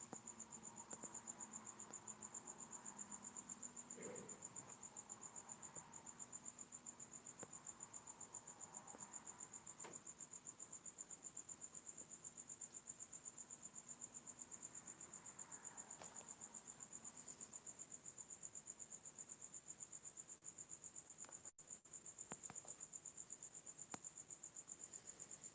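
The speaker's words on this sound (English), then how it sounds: "Now I hear crickets again." Crickets chirp continuously in a high, steady trill, quiet and distant, with a few faint background thumps.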